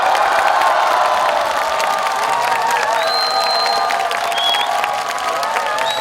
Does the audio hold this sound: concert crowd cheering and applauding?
yes